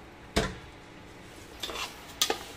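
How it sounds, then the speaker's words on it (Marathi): A cooked mixture is moved into a metal cooking pot, marked by three faint, separate clanks and scrapes of utensil against pot spaced out over a quiet background. "आता ह्या भांड्यामध्ये शिफ्ट करून घेते मी."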